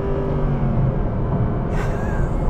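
Naturally aspirated V8 of a Mercedes SLS AMG Black Series supercar, a loud steady engine drone heard from inside while driving, rising slightly near the end, with no talk.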